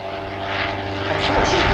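A vintage propeller aircraft built to original specification with its original engine flies at an evening air display, its engine drone steady and fairly loud, slightly rising, with a voice faintly under it.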